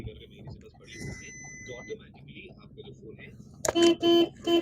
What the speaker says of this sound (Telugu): హారన్ కూడా వర్కింగ్ లో ఉందండి